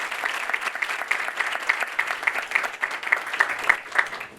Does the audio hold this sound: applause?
yes